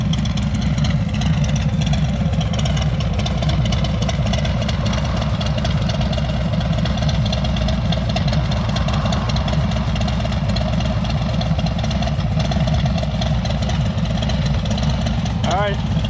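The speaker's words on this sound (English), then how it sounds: "this is how a Milwaukee 8 should exactly sound like" Harley-Davidson Milwaukee 8 motorcycle engine fitted with Thunder Torque inserts, idling with a steady, loping low rumble that stays loud and close throughout, with no other sounds over it.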